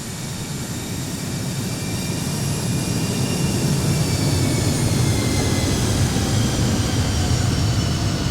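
Embraer E190 jet engines rolling out after landing in the X-Plane 12 flight simulator, a loud, continuous turbine roar with a high whine. The roar swells slightly and then holds steady, with no voices.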